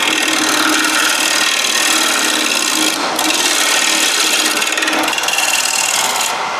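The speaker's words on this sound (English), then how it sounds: "Just get your chisel nearly flat, and then just clean the face." A chisel held nearly flat cleans the face of wood spinning on a lathe, giving a continuous loud, close rasping hiss with two brief dips.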